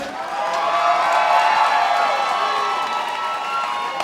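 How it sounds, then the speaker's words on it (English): A large crowd at a SteelFist fight event cheers and hollers continuously for both fighters, a steady roar of voices and whoops with some clapping, swelling slightly in the middle before easing. "Make some noise for both these fighters, would you?"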